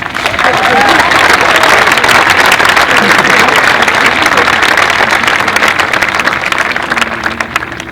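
An audience at a college convocation applauds, dense continuous clapping from a large crowd that swells early and fades slightly toward the end.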